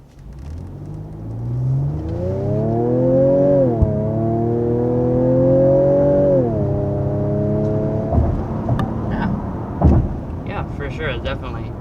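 A 2021 Ford Edge ST with a 335-horsepower engine accelerates hard, a loud, rising engine tone climbing through a long pull, easing off, then holding steady before a few clunks and brief voices at the end.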